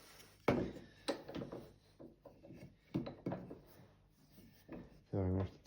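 A big scraper works across a wooden plane, a series of short rasping strokes in an uneven rhythm, close and fairly quiet, separated by brief pauses.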